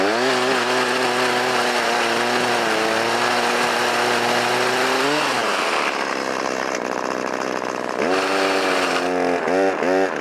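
A motorized pole saw makes a relief cut into a tree limb, its engine whining loudly and close, steady at first, then dropping and revving up again near the end.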